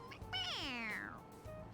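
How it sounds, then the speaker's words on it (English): A stuffed toy cat in the video game Persona 5 Royal lets out a single drawn-out synthetic meow when pressed, clear and upfront over a low game background hum. "It meows when you press on its head."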